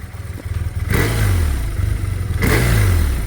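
A BMW R 12 boxer-twin motorcycle engine fires up close by, then gets two sharp revs that rise and fall back, with a steady idle rumble in between.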